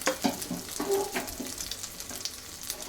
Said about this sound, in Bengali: ডিম ভাজাটা বসিয়ে দিয়েছি আমি বন্ধুরা।